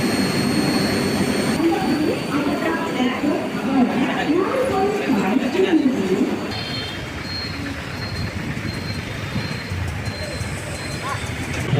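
An orange Trichy-Trivandrum Intercity Express train rumbles and rolls into the station with a loud, steady mechanical roar and squealing wheels, fading to a quieter rumble as it slows near the end.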